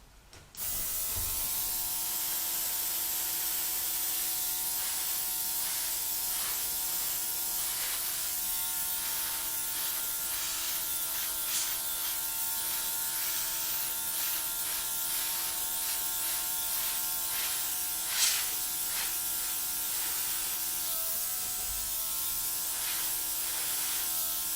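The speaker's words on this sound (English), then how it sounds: "I'm going to get my little compressor." A small air compressor runs with a steady buzzing hum as it blows paint across a fluid art pour, continuous and fairly quiet throughout, with faint clicks now and then and no talking.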